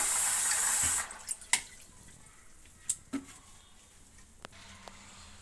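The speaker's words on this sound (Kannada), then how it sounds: "ಮತ್ತೆ ಇನ್ನೊಂದು ಸಲ ನೀರು ಬಿಟ್ಕೊಂಡು ಹೀಗೆ ನೀಟಾಗಿ ತೊಳೆದು ಇನ್ನೊಂದು ಪಾತ್ರೆಗೆ ಹಾಕ್ಕೊಂಡ್ಬಿಡ್ತೀನಿ" Food being rinsed for sambar in a home kitchen: a loud, close rush of tap water for about a second, then the flow stops, leaving scattered small splashes, drips and light clinks of a vessel, with no talking.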